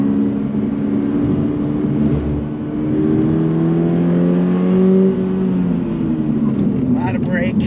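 A 2022 Subaru BRZ pulls hard in third gear through a long right-hand curve on a winding road, its engine note rising in steady harmonic bands, loud and close from inside the cabin, with someone talking over it.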